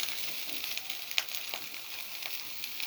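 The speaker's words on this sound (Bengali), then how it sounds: "গরম মশলা দিয়ে ভেজে চালটা কষাই নেব। কষায় ভালোভাবে ভেজে নেব চালটা।" Rice frying with garam masala and garlic paste in a pan for vegetable khichuri gives a steady, soft sizzle with faint clicks and scrapes of stirring, close and alone without talk.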